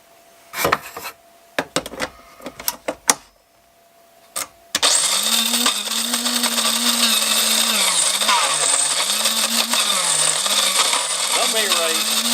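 A coffee grinder loaded with dark roast beans starts with a few sharp clatters, then roars into a loud, strained whine whose pitch sags and wavers as the motor labours, running continuously to the end.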